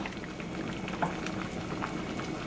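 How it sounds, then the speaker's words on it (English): Water bubbling at a steady rolling boil while cooking chickpeas for chana masala, a dense continuous simmering hiss with small pops, close by and fairly quiet, no voices. "it has already started boiling"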